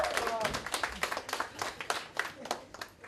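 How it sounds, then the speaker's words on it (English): An audience at a Godrej product launch breaks into dense, lively applause, with many overlapping claps and crowd noise, and some voices mixed in. "I think she, deserves a louder applause."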